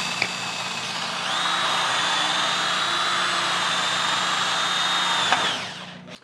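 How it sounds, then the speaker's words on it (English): A power drill bores a bolt hole through a Series 1 Land Rover body panel, a close, loud, steady high whine that holds for about four seconds before winding down. "we can carefully mark out where our bolt holes are going to be and drill them out"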